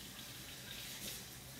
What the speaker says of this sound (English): We'll rinse that off.